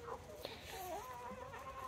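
A molting backyard hen clucks and chirps softly in a short rising call, fairly close but quiet, over a low steady background.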